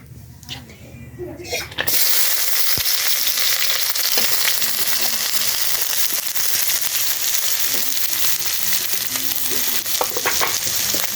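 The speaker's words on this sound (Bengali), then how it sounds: "এখন তেল গরম হয়ে গেছে একটা তেজপাতা দিয়েছি আরেকটা দিয়ে দিলাম এখন আমরা পেঁয়াজ কুচিটা দিয়ে দিব" Chopped onion hits hot oil with bay leaves in a pot on a village clay stove, a quieter opening that bursts into a loud, crackling sizzle and keeps frying steadily, with a voice faintly underneath.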